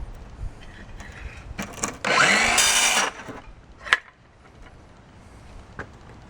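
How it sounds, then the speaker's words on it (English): A plunge saw makes a brief test cut into shower foam board, a sharp whine lasting about a second amid quiet workshop handling noises and a couple of knocks. "So I'll do a test plunge here."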